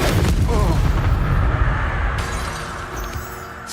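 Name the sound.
Incendio spell blast in the video game Hogwarts Legacy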